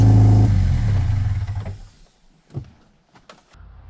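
Subaru Legacy GT engine firing up for the first time with no exhaust fitted, a loud raw roar for about a second that drops to a rough idle, then dies into sparse clatter and a few short knocks.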